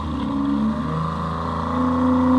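A snow machine engine idles steadily outdoors in Alaska, its exhaust running to thaw ice; a continuous, fairly loud droning rumble with a slight rise in pitch toward the end.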